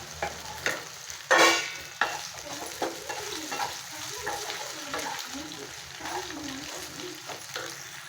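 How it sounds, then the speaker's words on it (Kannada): Raw banana pieces tipped into a hot pan of chillies and curry leaves, giving a loud rush of sizzle followed by scattered scraping stirs and clinks while frying crackles quietly underneath. "ಬಾಳೆಕಾಯಿ ಹಾಕೋಣ ಇದಕ್ಕೆ."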